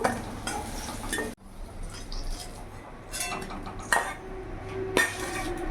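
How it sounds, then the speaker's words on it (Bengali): A spatula scrapes and clinks against a pan as fried eggplant is lifted out, with a steady soft hiss of hot oil underneath and a couple of sharper metallic taps near the end. "বেগুনটা লাল লাল করে ভেজে নিয়েছি, এবার নামিয়ে ফেলবো"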